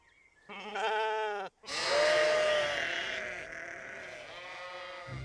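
A sheep bleats twice, a wavering cry and then a longer, louder one, close by against quiet surroundings.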